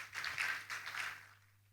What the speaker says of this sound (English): Please, a warm round of applause for her as well.